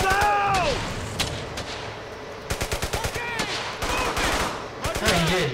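Gunfire from Brothers in Arms: Hell's Highway comes as loud bursts of rapid shots and single cracks. Bullets whiz past, and other battle noise fills the background.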